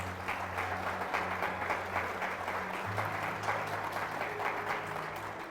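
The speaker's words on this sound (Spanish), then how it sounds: "¿Cuántos aplauden la palabra del Señor?" A church congregation applauding during a sermon: steady, dense clapping throughout, with a sustained musical tone droning underneath, like a keyboard holding chords.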